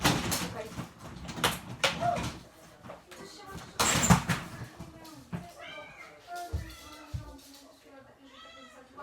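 A domestic cat meows several times at close range, a run of short drawn-out cries in the second half, with a person speaking over and between them.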